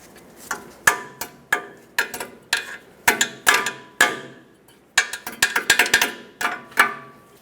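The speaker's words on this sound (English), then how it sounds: "Get your cotter pin through, and we're going to bend it over to lock it in" Sharp metallic clicks and taps, close and irregular, come in uneven clusters as a cotter pin is bent over on a new ball joint stud of a Ford E-350 van, with no talking.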